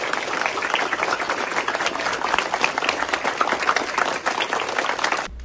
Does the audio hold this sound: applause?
yes